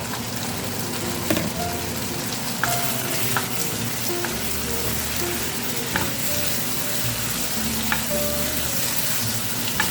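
Two sticks of cut carrots sizzle steadily in hot oil while Chinese-style fried rice is cooked, with a constant frying hiss and occasional sharp clicks of stirring throughout, fairly close and with no talking.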